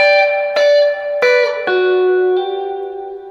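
An electric guitar plays a riff, four distinct picked notes ringing out close and clear with sustain, the final note fading with a slight tremolo.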